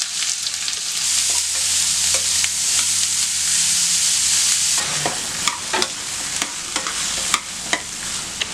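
Chopped onion and green chilli frying in a pan, a loud, steady sizzle with a utensil scraping and stirring at intervals, growing more clattery toward the end.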